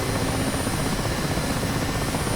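A Mi-8 helicopter in a flight simulator game runs after a cold start, its engines and rotor giving a loud, constant turbine roar with dense broadband whine, unbroken from start to finish with no voices.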